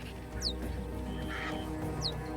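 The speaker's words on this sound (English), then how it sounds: "The birds fight angrily with each other" Vultures squabble over a carcass on open plains, harsh rasping calls and sharp squeals rising over a busy background of overlapping bird noise.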